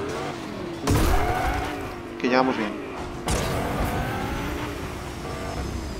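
Iron Man's car from the Fortnite video game drives with a steady engine drone, a couple of louder revs and mechanical clunks, while players talk over it.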